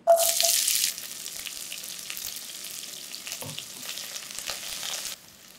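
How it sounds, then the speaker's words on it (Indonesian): Onions frying in ghee, opening with a loud sharp burst of sizzle as they hit the hot fat, then settling into a steady, moderate crackle with occasional stirring clinks and a faint tap-water sound in the background. "Pertama, masukkan minyak samin. Sekarang kita masukkan bawang bombaynya."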